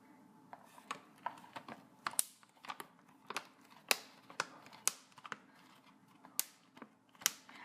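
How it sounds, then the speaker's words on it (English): Zipper seal of a food storage bag clicking as it is pressed closed, a series of sharp, close, distinct clicks at an irregular but steady pace over a low background hum, with no talk. "when you're zipping, as I'm doing here, you notice that it makes clicking sounds"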